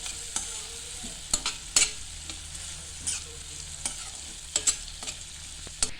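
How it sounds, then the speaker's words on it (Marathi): Chopped onion and green chilli are stirred and sautéed in a pan, giving a faint, steady sizzle broken by scattered scraping and clinking of the spoon against the pan. "आणि पुन्हा एकदा आपण कांदा परतवून घेऊया त्यात मिरची सकट"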